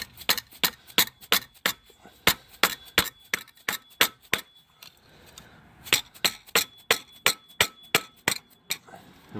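Sharp metallic taps ring out in a steady series as a tool is hammered between two putty knives to pry the timing cover off a 2011-2015 Chevy Cruze 1.8L engine, with a brief pause midway before the strikes resume.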